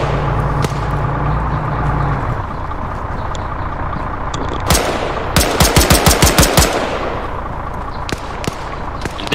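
Gunfire in the Arma 3 DayZ video game: a single loud shot, then a second sharp report, followed by a rapid burst of about eight evenly spaced automatic shots and a few scattered later cracks, over steady engine-like rumble.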